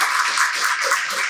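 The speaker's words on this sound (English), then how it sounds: "why don't we all give them a round of applause?" An audience applauds a university panel discussion with a brief, dense wash of steady clapping, heard alone without any talk.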